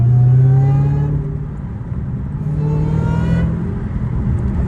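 A Dodge Hellcat Redeye's supercharged engine revs up close by with a rising whine, then settles toward idle before revving again, loud and with no talking.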